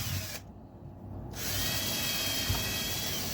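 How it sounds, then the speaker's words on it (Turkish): Power drill boring a hole straight through a metal vise part with a 5 mm bit, a steady close whine running nearly throughout with a brief dip in tone early on. "Beşlikle yukarıdan aşağıya tamamen deliyorum"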